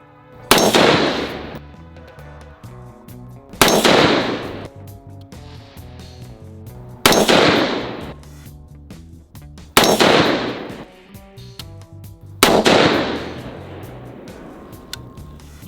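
Federal Fusion 90-grain rounds fired from a 224 Valkyrie AR-15 rifle: five loud, sharp gunshots spaced about three seconds apart, each followed by a ringing decay, with no talking.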